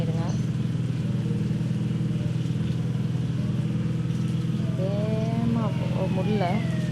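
A heavily loaded truck's engine in a truck driving video game drones low and steady, laboring at slow speed with a constant, loud hum that never lets up.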